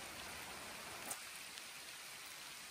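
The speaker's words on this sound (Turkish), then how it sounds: "şu anda hem çok soğuk hem de yağmur çok şiddetini arttırdı" Heavy, intensifying rain falling on a cold day outside a village house, a dense steady hiss of drops with a few sharper splats, with no talk.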